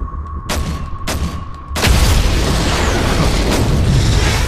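Shot mines detonate in Call of Duty: Modern Warfare 3, starting with two quick sharp pops and then a big boom that opens into a loud, sustained rolling roar of blast and debris.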